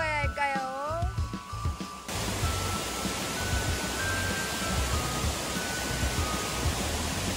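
Continuous rushing water from a clear stream in the Anduk Valley forest on Jeju Island, a broad, even flow running steadily from start to finish, with a brief voice heard faintly at the very beginning.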